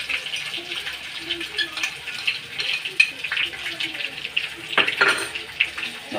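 Spice masala with ginger, garlic, cumin, turmeric and chopped tomato sizzles in a pan while being stirred: a steady hiss with scattered scraping clicks, fairly close.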